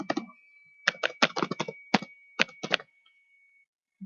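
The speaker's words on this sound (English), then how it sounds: "Here we can type email address like" Quick clusters of keystrokes on a computer keyboard while an email address is typed, crisp and close, in short irregular runs with brief gaps, then silence.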